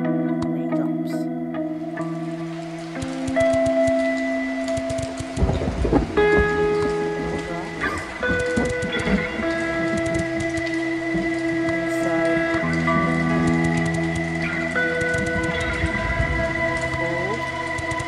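Rain and thunder in the puzzle game A Memory Maze swell over sustained synth chords, with a rumbling crash early on and a steady patter of rain running throughout beneath the game music.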